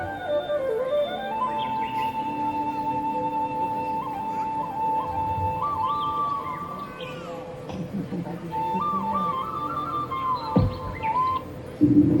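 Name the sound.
birds chirping in forest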